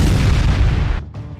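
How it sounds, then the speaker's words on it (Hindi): A rocket bombardment fired at northern Israel, heard as a single heavy, loud, deep boom that rumbles and then cuts off abruptly. "हिजबुल्लाह लड़ाकों ने अलग अलग ठिकानों से इजराइल पर भीषण बमबारी कर अपना गुस्सा"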